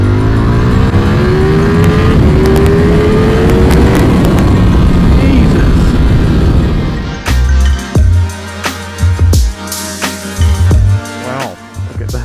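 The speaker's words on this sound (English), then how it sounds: "I am about to jump on this Italian missile for the Ducati V4S Panigale first ride" A Ducati Panigale V4S sport motorcycle roars loudly and steadily at close range, its engine note rising under throttle, then cutting to choppy bursts of revving and gear changes with wind and handling noise.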